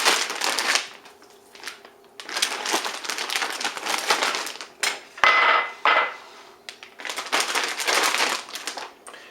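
Plastic crinkles and rustles loudly up close as raw pork ribs are placed into a large Ziploc bag, coming in long bursts separated by brief quiet gaps, with occasional soft knocks.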